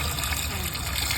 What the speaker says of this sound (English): So the tank is filling up